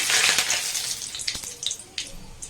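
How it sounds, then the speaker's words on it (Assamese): Bay leaves dropped into hot oil in a wok for Assamese-style duck with ash gourd, giving a steady bright sizzle with a few sharper crackles, close up and with no talking. "মোৰ তেলখিনি গৰম হৈ গ'ল, মই ইয়াতে কেইখিলামান তেজপাত দি দিম"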